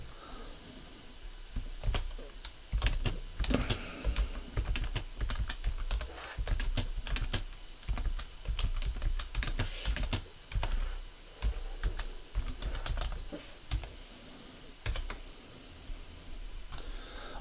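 Rapid typing on a computer keyboard while entering a prompt into a Copilot chatbot, with irregular bursts of close, crisp key clicks and brief pauses, no talking.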